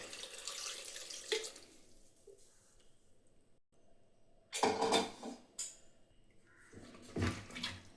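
Water pours and splashes into a cooking pot in a few short bursts while making erissery, with quiet pauses between and faint clinks of cookware.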